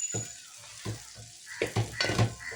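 Previously fried chicken is stirred into sizzling biryani masala in a pan, a spoon scraping in several short, uneven strokes over a quiet background sizzle, close and clear.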